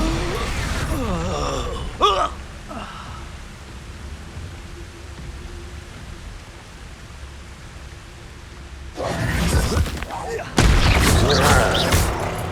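Spell blasts from Expulso casting in Hogwarts Legacy on PS5, loud broadband bursts near the start and again toward the end, with a quieter rumbling stretch between and a shouting voice.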